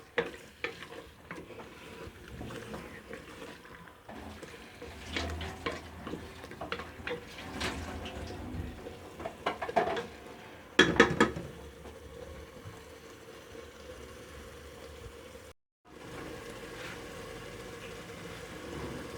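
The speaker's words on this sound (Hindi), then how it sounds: "अब इसको भूनेंगे आलू को" Potatoes frying and being stirred in a pan for aloo gobhi, with a steady sizzle broken by scraping stirs and clatter, one louder burst midway and a brief dropout near the end.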